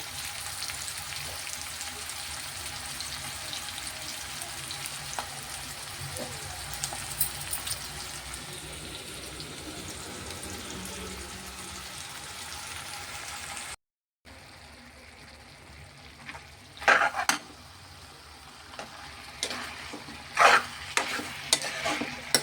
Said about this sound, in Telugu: బంగాళదుంప ముక్కలు టమాటాలు ఉల్లిపాయ పచ్చిమిరకాయ వంకాయ ఈ శుభ్రంగా మనం ఒక రెండు మూడు నిమిషాలు ఫ్రై చేసి పెట్టుకుందాం